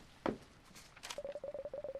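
Telephone dialing in the horror game Detective Rainy Night: a single click, then a quick run of about ten short, evenly spaced touch-tone beeps, close and fairly quiet.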